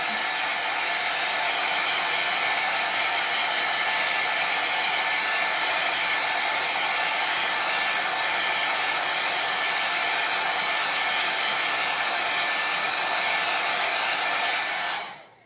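A hair dryer blows on Chalk Couture paste on a T-shirt, a loud, steady, close-up airy roar with a faint whine that runs unbroken for about fifteen seconds before cutting off.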